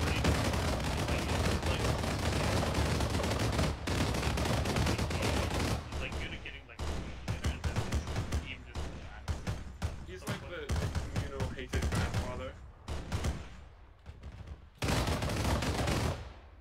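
Repeated gunfire and volleys of shots in the military shooter ArmA 3 with a Halo-themed mod, sharp cracks and bursts scattered throughout, some near and loud, others more distant, with stretches of continuous firing and short lulls.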